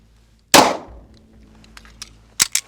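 A single loud, close .40 caliber SIG 226 pistol shot rings out against a bank truck, with a long decaying tail, followed by quieter metallic ticks and two sharp impact-like cracks near the end.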